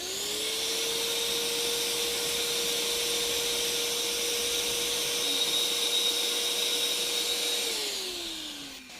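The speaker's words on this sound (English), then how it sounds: "Wet vac, keep sucking it out, filling it up, sucking it out." A wet vac sucks water out of a boat's diesel fuel tank, a steady loud whine holding one pitch for several seconds before winding down, with no talking.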